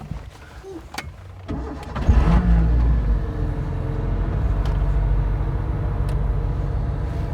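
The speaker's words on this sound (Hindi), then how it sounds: "ये एग्जॉस्ट मुझे मेरी फैमिली एस्टीम की याद दिला देता है" Maruti Esteem car, built from scrap, starts up with a brief crank and catches, then settles into a steady, close exhaust idle that continues to the end.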